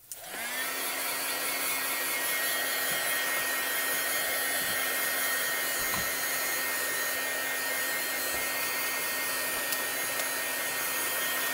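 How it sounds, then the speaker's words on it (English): A heat gun starts up and blows a steady, loud whooshing stream of air with a high whine, running continuously without talk. "I'm going to take the heat tool to this just to set it in place."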